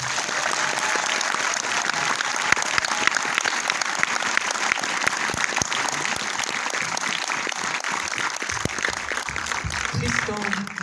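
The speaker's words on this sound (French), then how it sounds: "Vous pouvez les applaudir." Enthusiastic audience applause for the cast at a French film premiere screening: a full theater clapping continuously and loudly for about ten seconds, with crowd murmur underneath and a brief low sound near the end.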